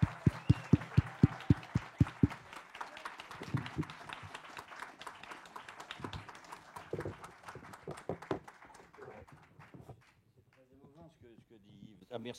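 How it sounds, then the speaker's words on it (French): An audience at a Napoleon festival awards ceremony gives Christian Clavier loud applause. It opens with a few slow, heavy claps, swells into dense clapping, and fades out near the end. "Je vous demande de faire un tonnerre d'applaudissements pour Monsieur Christian Clavier."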